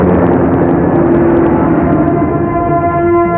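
A helicopter in a Telugu action-movie chase drones loudly and steadily, its engine tone held with faint siren-like harmonics and no voices over it.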